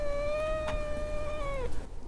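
A cat's single drawn-out meow, steady and fairly close, trailing off near the end over a faint background hum, with no voices.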